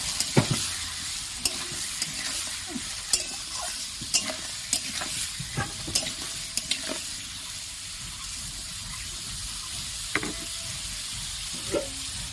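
Prawns frying with chili powder in a pan, stirred with a spatula: a constant bright sizzle broken by sharp scraping and tapping strokes, loudest early and thinning out toward the end, with no voices.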